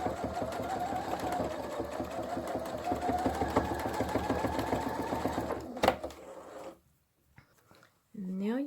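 Sewing machine steadily stitching a fabric craft caddy, a loud continuous whirring hum with rhythmic needle ticks, stopping near the end with a brief pause before another short burst.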